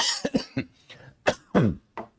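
A series of coughs, several short harsh bursts in a row followed by a few heavier hacking coughs, close and fairly loud.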